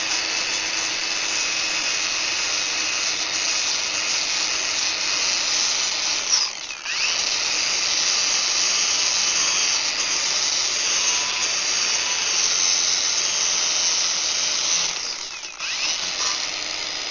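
A power sander with a sanding disc whirs steadily and loudly against wood, a continuous gritty drone that briefly dips twice before settling back to full speed.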